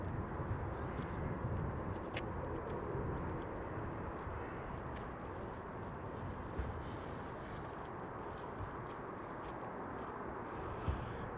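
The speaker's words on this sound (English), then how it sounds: "I'm inclined to say that this is an Airbus" An Airbus airliner passes overhead on arrival at Amsterdam Schiphol Airport, giving a steady, distant jet engine roar with wind noise over the microphone and no talk.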